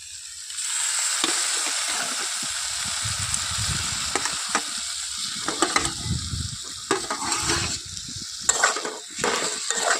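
Eggplant fries in mustard oil with neem flowers for a bharta, a loud close sizzle with a dense hiss, broken by irregular stirring scrapes and clacks against the pan, with no one talking.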